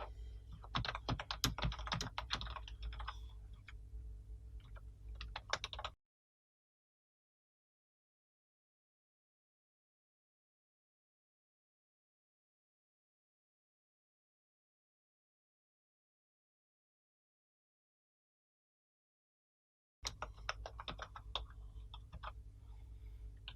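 Java code typed on a computer keyboard, a quick run of close, crisp key clicks, then a long stretch of silence before the typing starts again.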